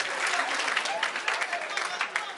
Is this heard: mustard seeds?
no